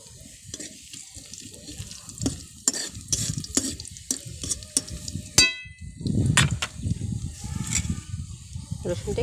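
Garlic frying in oil for a vegetable dal, with steady soft sizzling under scattered clinks and stirring scrapes of a spoon in the pan, close and moderately loud throughout.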